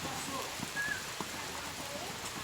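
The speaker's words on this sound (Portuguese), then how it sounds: "aí a pancada de chuva começou a diminuir." A heavy rain shower falls over an outdoor horse riding arena, a steady, close hiss of drops on the ground and surfaces, continuous and even through the whole stretch.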